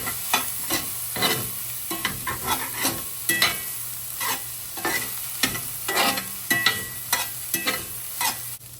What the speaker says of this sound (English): Now I'm adding fresh turmeric root. Stir that around.